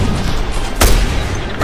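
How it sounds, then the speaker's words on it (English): Chinese fireworks detonate in the Just Cause 2 video game with a sudden loud boom and crackling burst partway through, set against a steady rumbling game backdrop with a second smaller pop near the end. "Now, the true power of Chinese fireworks will be revealed!"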